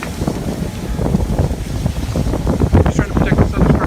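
Strong gusting wind buffets the microphone with a constant rumbling roar beside a smoky wildfire, steady and loud throughout, with a voice faintly underneath.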